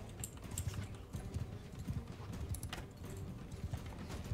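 Horse hooves clip-clopping in the video game Mount and Blade, a steady run of close, repeated hoof beats with a brisk, uneven rhythm, heard alone.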